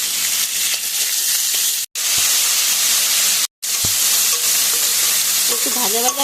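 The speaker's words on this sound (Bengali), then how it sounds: "একটু ভাজা ভাজা করে নেব।" Squash and potato pieces fry in a pan with ginger paste, panch phoron and salt, giving a steady loud sizzle broken by two brief pauses, with a few stirring scrapes near the end.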